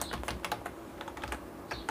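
Rapid, uneven keystrokes on a computer keyboard as text is typed into trading software, close and fairly quiet, with clusters of clicks through the short stretch and no voices.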